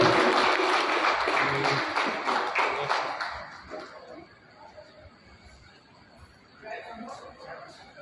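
An audience applauds loudly for the international magician Riya at a programme. Dense, close clapping fills the first few seconds, then fades into murmuring chatter, with a brief swell of noise near the end.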